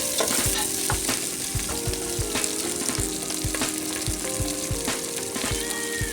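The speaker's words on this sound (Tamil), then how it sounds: "சின்ன வெங்காயம் 1 கப்பு, கருவேப்பிலை எல்லாம் போட்டு வதக்கி விட்டுக்கலாம்." Small onions and curry leaves sautéing in a pan give a steady, loud sizzle with repeated scraping stir strokes at a regular rhythm, with no voices.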